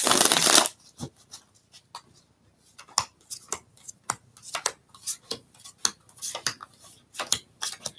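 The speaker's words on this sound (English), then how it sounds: "Let's do one more final shuffle and pull your 9-card spread." Tarot cards are riffled in a quick burst, then slapped and shuffled in a run of crisp, uneven flicks and taps, close by and without talk.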